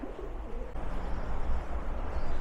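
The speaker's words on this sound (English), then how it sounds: "Oh my God, there's so many pigeons in here." Pigeons coo softly inside the ruins of a Norman house, low and murmuring against a steady wash of wind and ambient noise.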